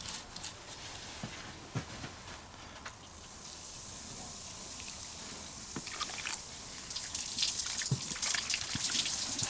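Hot water sprays and trickles over baking soda on car battery terminals, a soft hiss with scattered splashes and drips that grows a little fuller toward the end.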